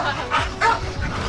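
Dogs bark in short bursts at a jungle home in the Philippines during the rainy season, a Doberman among them, two or three quick yips over steady background noise.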